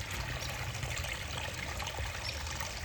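Creek water flowing around a bend, a faint, steady trickling and gurgling wash with a low rumble beneath it, continuous and without speech.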